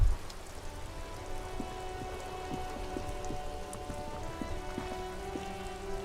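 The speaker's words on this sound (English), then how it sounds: "This rain will not let up anytime soon." Steady rain falls in the Disco Elysium video game, a continuous patter of drops on surfaces with faint tapping drips, heard alone at moderate volume.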